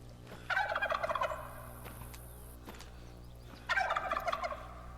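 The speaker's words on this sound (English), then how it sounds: "He's gobbling like crazy." A wild turkey gobbles in two loud bursts outdoors during a hunt, the first early and the second near the end, separated by a quieter stretch with faint steady background hum.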